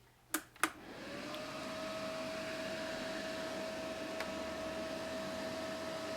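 A home fat-freezing sculpting machine starts up after two sharp clicks, then settles into a steady, quiet, even whir with a constant tonal hum that runs without a break to the end.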